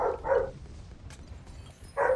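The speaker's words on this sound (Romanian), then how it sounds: "Mamă, bă, nu mai lătrați." Dogs bark nearby: two quick barks, a pause, then another sharp bark, fairly loud against a quiet room.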